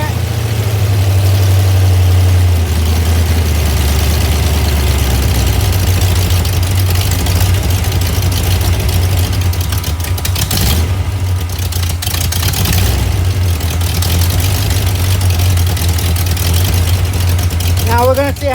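A small block Chevy V8 fitted with an RV cam idles loudly and continuously, its deep, steady rumble holding even throughout with no revving.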